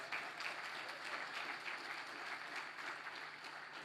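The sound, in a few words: audience applause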